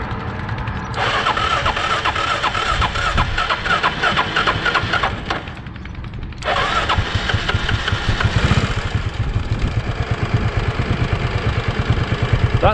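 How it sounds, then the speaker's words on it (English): A motorbike engine started by short-circuiting the wiring with a screwdriver cranks loudly and close, catches, dips briefly, then cranks again and settles into a rough, steady running rumble. "I discovered I could short circuit something and make the bike start."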